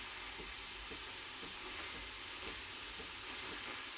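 A Breville Barista Express BES870 steam wand hisses in a steady, even rush that holds unbroken for the whole stretch, fairly soft, with no voices.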